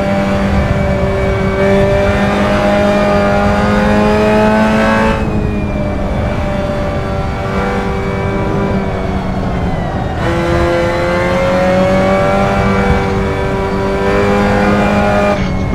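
A Mazda MX-5 Cup race car at Lime Rock Park in Assetto Corsa, its four-cylinder engine revving hard and close with rising pitch through the gears, dropping off sharply at two upshifts or lifts before climbing again, loud and steady throughout.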